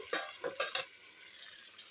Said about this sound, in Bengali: এখন ভালো করে কেটে দিয়ে দিই আর নেড়ে দেব